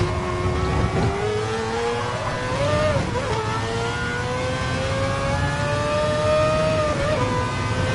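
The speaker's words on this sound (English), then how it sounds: "Oh, listen to that rotor motor." Rotary-engined Group C race car in Gran Turismo Sport, a loud continuous buzzing engine note climbing steadily under hard acceleration, with a quick dip at a gear change before rising again.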